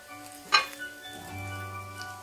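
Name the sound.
spices being stirred in a sizzling pan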